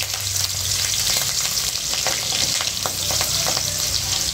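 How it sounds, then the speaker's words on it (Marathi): Cumin, ginger and green chili frying in hot oil make a loud, dense sizzle, with quick stirring scrapes and clicks running steadily through it and no talking. "जिरे घालून मला अद्रक आणि हिरवी मिरची टाकूयात।"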